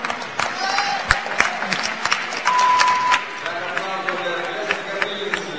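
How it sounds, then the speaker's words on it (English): Applause and cheering from a crowd of spectators at a climbing competition during lead and bouldering finals, a steady dense wash of clapping that swells briefly midway, with a voice talking over it. "that round of applause was for Jessie Fields and Panyu Fei"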